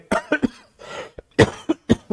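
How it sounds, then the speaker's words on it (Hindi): A fit of repeated coughing, several short harsh bursts in quick succession with a raspy breath between them, close to the mic. "मुझे थोड़ी सी खांसी हो रही है"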